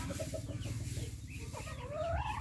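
A hen, mother of chicks, clucks close by in a rhythmic series of low, repeated calls, with a rising squawk near the end, heard alone without talk.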